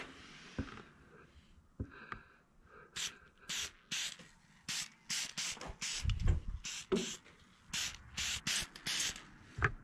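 An aerosol can of clear coat sprays onto an epoxy and wood ring in a series of short hissing bursts, close by, separated by brief pauses, with faint handling noise before the spraying begins.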